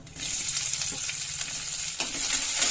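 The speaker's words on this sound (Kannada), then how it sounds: "ಫ್ರೈ ಮಾಡ್ಕೊಂಬಿಡಿ" Onions sizzle in hot oil with cumin, mustard seeds and curry leaves for a North Karnataka-style avarekai palya, a steady close frying hiss with faint stirring scrapes and no talking.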